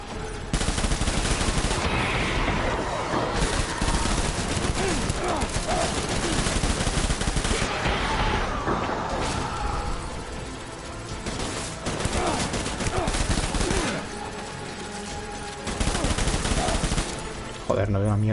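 Sustained heavy gunfire from the video game Death Stranding, a dense, continuous fusillade of overlapping rifle and machine-gun shots with clashing impacts, loud and unbroken throughout with no clear talk.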